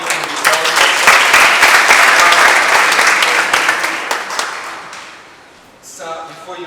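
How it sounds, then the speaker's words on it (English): Loud, dense round of audience applause at an evening presentation with law students, sustained for several seconds before tapering off, then a short quieter burst of clapping near the end. "Round of applause again"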